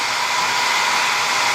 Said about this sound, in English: What I want to do next is just hit it with a hairdryer again.